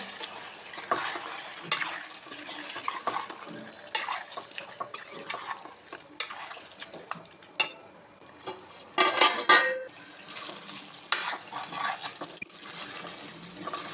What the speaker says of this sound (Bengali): লবণটাকে একবার ভালো করে মিশিয়ে দেব।